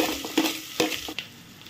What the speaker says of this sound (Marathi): कांदा आपल्याला तेलामध्ये चांगला गुलाबीसर रंगावर परतून घ्यायचा आहे।